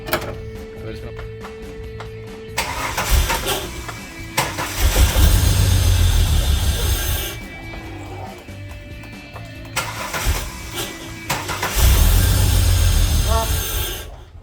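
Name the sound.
Holden VY Calais car engine starting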